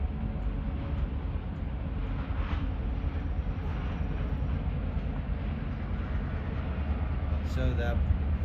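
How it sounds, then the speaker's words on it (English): Freight train rumbling past near Ely Road in Thetford, Vermont, a steady low heavy roar with faint squeals and a person talking over it. "So that's a freight train."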